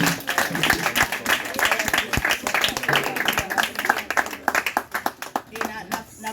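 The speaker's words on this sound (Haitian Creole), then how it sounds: "Et nous battons un applaudissement pour le monde qui est invité là" A church congregation applauds during worship, with dense rhythmic clapping from many hands continuing throughout, mixed with voices and speech over it.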